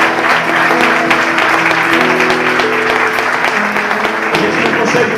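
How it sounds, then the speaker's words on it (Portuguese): A church congregation applauds during a prayer service, loud sustained clapping with steady background tones underneath, holding evenly throughout. "Então aplauda ele aí."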